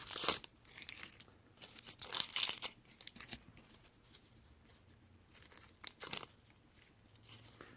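Dry, papery outer layers being peeled from an onion by hand, heard as close, quiet crackles and tearing rustles in irregular bursts, with no talking.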